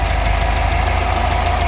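A 1963 Corvette split-window with a 327 V8 idles steadily through a 2.5-inch exhaust, a close, loud, continuous low rumble with an even throbbing pulse and no voices.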